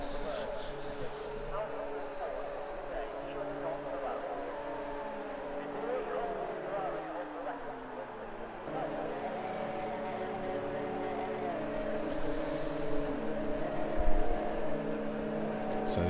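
Race cars drive at low speed to their grid slots before a start, engines droning and shifting pitch as they pass, with a spoken commentary running over them.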